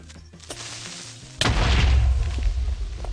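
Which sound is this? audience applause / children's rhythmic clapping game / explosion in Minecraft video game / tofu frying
explosion in Minecraft video game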